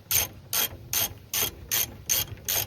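A hand ratchet tightens the front wheel speed sensor on a 4th-gen Ram truck, making seven evenly spaced bursts of sharp clicking, close and clear, with no voices.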